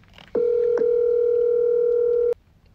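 A steady telephone dial tone hums loud and unbroken for about two seconds after a short click of the receiver being lifted, with a brief blip partway through, then stops abruptly, all before a call home from basic training.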